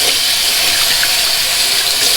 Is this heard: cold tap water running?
yes